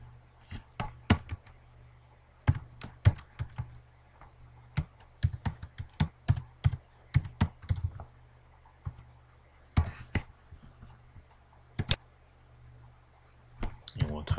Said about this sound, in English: And we'll type in John Doe here, which is J-D-O-E, the password